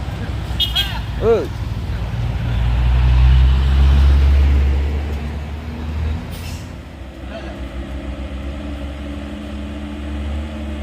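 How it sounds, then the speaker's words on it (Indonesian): A heavy office truck pulling a trailer rumbles past on a steep hill road in extreme weather, a loud low engine drone swelling and fading, with a brief air-brake hiss and a horn-like tone early on. "ini ada truk kantor bosku dengan trailer ya"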